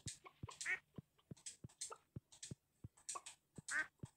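Ducks in Stardew Valley give a series of clear, close quacks, short single calls in an uneven rhythm with brief gaps, with no voices over them.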